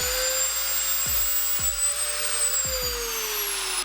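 A power tool whines at a steady high pitch, close and fairly loud, as it cuts off a small metal tail piece, with a few sharp knocks at roughly one-second intervals.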